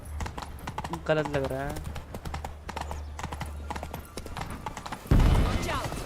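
Roach the horse in Witcher 3 Blood and Wine, steady rhythmic clip-clop of hooves with a whinny partway through, heard under someone talking over the gameplay.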